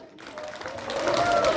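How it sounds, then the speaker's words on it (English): Audience applause at a school Swachhata Pakhwada event after a poem recitation, clapping swelling up from near silence and growing louder over a moment, with a faint voice underneath. "Let us give him a big round of applause."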